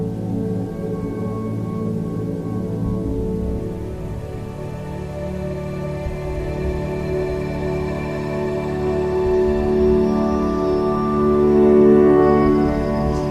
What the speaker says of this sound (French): Numéro 7, les sons binauraux.